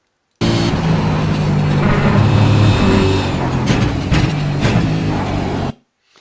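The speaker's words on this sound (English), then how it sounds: "We're going to downshift into third and then into second just before the left-hander" A race car engine roars loudly and continuously from inside the car, its pitch shifting as the driver works down through the gears, then cutting off abruptly.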